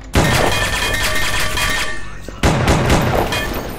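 Enemies firing in E.Y.E Divine Cybermancy: two loud, dense bursts of rapid gunfire, each cutting in sharply and rattling on in a harsh, crackling stream, separated by a brief lull.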